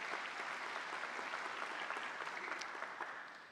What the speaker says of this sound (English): I really ask you to applaud them all for their effort and time.